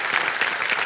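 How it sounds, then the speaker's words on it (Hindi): Studio audience applause on a Kaun Banega Crorepati quiz show set, a dense, steady burst of many hands clapping close and loud throughout, with no voices over it. "बहुत जोर से ताली बज गई आपके लिए"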